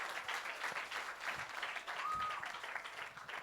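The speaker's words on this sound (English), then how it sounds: "Give her a round of applause." An audience at a Hindu temple's Navratri yajna night in Guyana gives a round of applause for a birthday, a soft, distant patter of clapping heard through room noise.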